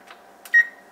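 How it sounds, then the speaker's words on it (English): An oven's control panel gives a single short, clear electronic beep as it is set to bake at 450, preceded by a couple of soft button presses in a quiet kitchen. "We are going to set the oven to 450 on bake."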